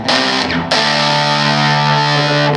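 Electric guitar through a Fuzz Face fuzz pedal, loud, thick, sputtering chords with a dying-amp quality, one struck near the start and another ringing out for the rest.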